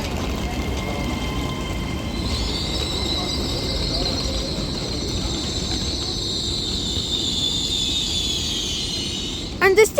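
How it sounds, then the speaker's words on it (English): An Avanti West Coast Class 807 Evero train pulls into Runcorn station on the Liverpool branch of the West Coast Main Line. A steady rumble of rolling wheels runs under a long, high brake squeal, and a few knocks come near the end. "And as this Avanti Evero arrives into Runcorn now"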